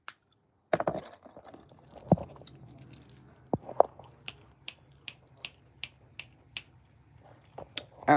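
Someone eats crunchy food close to the mic, giving a run of sharp, evenly spaced crunching bites, about one per second, with quiet gaps between them.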